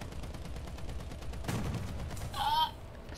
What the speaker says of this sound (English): I have a machine gun. I will shoot you with it.